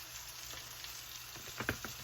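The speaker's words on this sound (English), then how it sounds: "Get them all nice and sauteed." Food sizzles and sautés in a pan seasoned with pepper, a steady quiet frying hiss with a few soft stirring scrapes near the end.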